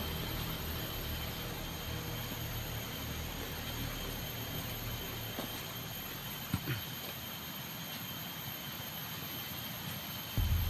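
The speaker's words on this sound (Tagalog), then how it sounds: "Sobrang lakas ng sapa tol. Narinig nyo yung agos ng sapa." A strong creek current rushes in a steady, broadband roar that stays constant throughout, with a faint high whine and a couple of brief knocks near the end.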